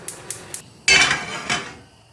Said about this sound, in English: let's get the frying pan